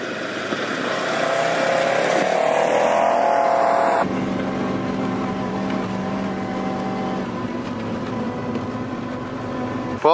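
An ice fishing vehicle moves off toward the next spot on a frozen lake, its engine droning and revving loudly at first, then settling into a steadier, lower rumble heard from inside as it keeps driving.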